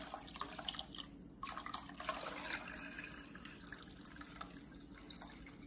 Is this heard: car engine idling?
no